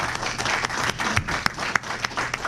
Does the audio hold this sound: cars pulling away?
no